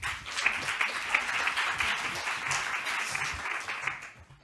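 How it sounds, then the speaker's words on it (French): Conference audience applause, a steady dense patter of many hands clapping that fills the whole stretch at moderate level and tapers off at the end. "Sous vos applaudissements, s'il vous plaît."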